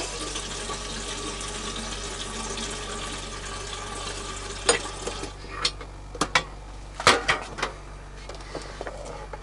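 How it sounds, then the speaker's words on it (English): Water running steadily into a container for heating to make instant coffee, a continuous hiss with a low hum beneath and a few clinks and knocks toward the end. "Okay, first add water."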